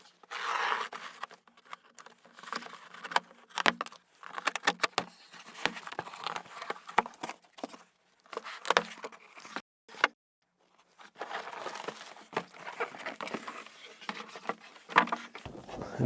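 Packaging for a Traxxas Raptor R RC truck is torn open, with bursts of ripping, crinkling and scraping that come in uneven clusters separated by short pauses, close and fairly loud.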